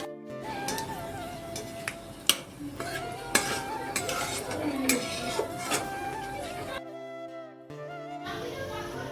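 Whole spices (cloves, cardamom, dried red chillies, cinnamon, panch phoron, cumin, bay leaves) frying in oil while being stirred, with a low sizzle under frequent sharp clinks and scrapes of a metal spoon against the pan, close by.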